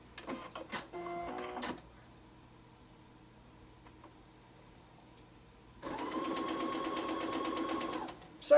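A sewing machine stitches the blades of a Dresden Plate quilt block in two bursts of steady, rapid mechanical whirring, a short run and then a longer one, close and clear with a quiet pause between them.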